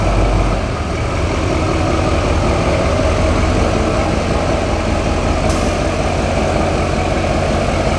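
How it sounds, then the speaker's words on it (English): A truck engine idles inside a warehouse, a loud, steady low diesel rumble that continues unbroken throughout. "I'm actually gonna end up pulling the truck into the warehouse right now"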